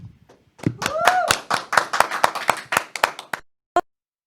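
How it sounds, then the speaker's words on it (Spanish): Audience applause welcomes a guest, starting with a few claps and swelling into quick, close clapping from a small group, then thinning out, with one last clap after a short pause. "La recibimos con un fuerte aplauso."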